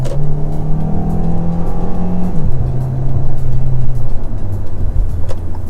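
A 2019 Hyundai Tucson 2.0 engine in sports mode revs up steadily, its tone climbing, then drops briefly at a gear change and pulls hard again, loud and close the whole time.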